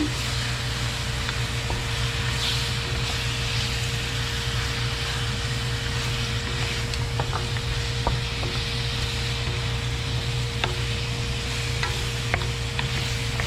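Oxtail stirred and sizzling in a pan for Filipino kare kare, a steady frying hiss with scattered scraping taps from the spoon, continuous and fairly close.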